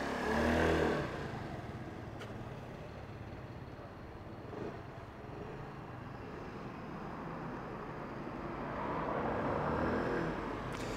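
A KYMCO Like II S 125i scooter with CBS riding a short loop on private grounds, its small engine droning and revving as it passes, louder at the start and end and fading in between.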